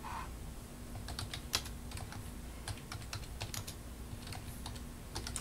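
Rapid keystrokes on a computer keyboard as a caption is typed, a steady stream of light clicky taps close up over a faint hum, with no voices.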